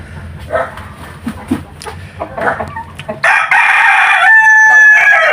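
Darag native chickens on a rabbit farm cluck and shuffle nearby before a rooster lets out a loud, close crow that runs to the end, with faint barking mixed in.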